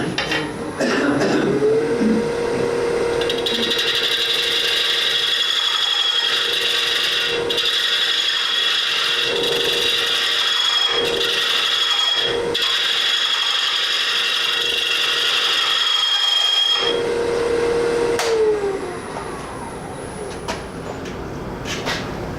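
A machine spins at about 700 RPM, close to its top speed before vibration sets in, giving a steady mechanical whir with a ratcheting, rubbing texture and a sustained tone that starts up and runs for about fifteen seconds before winding down.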